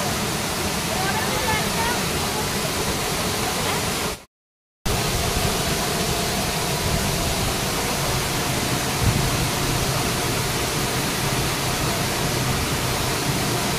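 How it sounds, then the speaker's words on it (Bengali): Mridubandh waterfall at Daringbadi roaring close by, a dense, steady broadband rush that stops abruptly for about half a second before resuming unchanged. "মৃদুবন্ধ ওয়াটারফলসের সামনে আমরা।"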